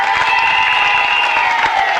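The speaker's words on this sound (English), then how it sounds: "Give them a nice round of applause" A TV game-show studio audience applauds steadily for a couple of seconds, a dense wash of clapping and cheering at moderate volume with a sustained tone running beneath it.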